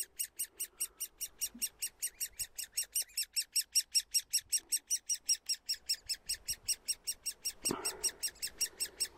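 Woodpecker nestlings in a tree-hollow nest calling nonstop, a fast regular series of sharp high chirps repeating for the whole stretch, loud and close, with a brief louder squawk near the end.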